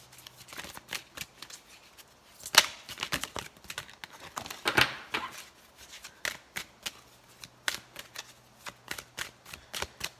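A tarot deck is shuffled up close in repeated quick riffling bursts of crisp card flicks, with a couple of sharper snaps standing out and no voices.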